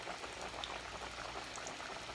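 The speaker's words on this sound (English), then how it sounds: "So I'm gonna let this fry up" Steady, dense sizzling and crackling of breaded chicken frying in hot oil, continuous and fairly quiet, with no voices.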